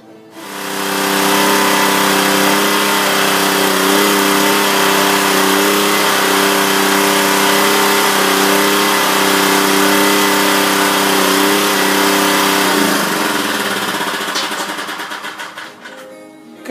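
Briggs & Stratton small engine running steadily after a carburetor cleaning and adjustment, a loud, close, even drone with no surging that holds for most of the stretch before winding down at the end.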